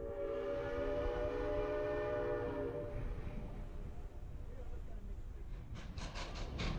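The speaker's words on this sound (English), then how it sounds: "the train is on the move again" A steam train in Colorado rumbles steadily with a long horn blast sounding over it at first, then a series of short bursts near the end.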